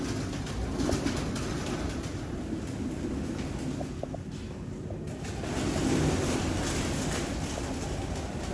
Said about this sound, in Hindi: उस्ताद मियां नज़ीर ब्लड लाइन कबूतरों का इस वीडियो में आपको शो करवाया जाएग